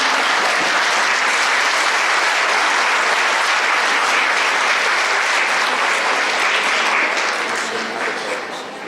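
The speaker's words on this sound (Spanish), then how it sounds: "le damos un aplauso de bienvenida" Audience at a monthly Catholic retreat in Puebla gives sustained welcoming applause for a priest, a dense, steady wash of clapping across the whole stretch that thins slightly toward the end.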